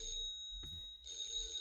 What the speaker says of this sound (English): Oh, that's the phone. That's the phone.